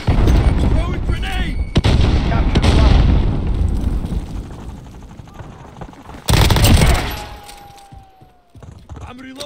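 Grenade blast and rapid gunfire in the video game Call of Duty Modern Warfare Warzone, loud and continuous battle noise with a sharp burst near the end, under in-game voices.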